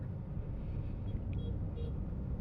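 Car driving in second gear on a road delivers a low, faint, steady engine rumble with traffic noise across the short stretch.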